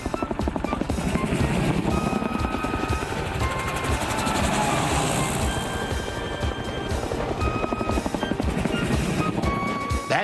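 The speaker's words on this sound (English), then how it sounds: "That night, 6 helicopters and 200 troops squelched into London under the command of one Colonel Buffy." Several military helicopters fly into London at night, a steady rhythmic rotor thud that stays loud and close throughout, with music playing underneath.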